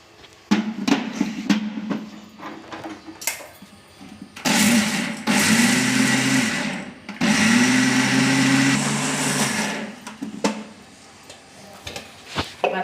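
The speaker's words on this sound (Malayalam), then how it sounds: "നമുക്ക് ഇതൊരു മിക്സിയുടെ ജാറിലേക്ക് ഇട്ട് കുറച്ചിട്ട് ഇട്ട് കൊടുത്തിട്ട് നമുക്കിത് വെള്ളം ഒഴിക്കാണ്ട് നന്നായിട്ട് അരച്ചെടുക്കാം." A kitchen mixer grinder grinding soaked urad dal without water, running in two loud whirring bursts with pauses between, plus scattered clinks and knocks of the jar before and after.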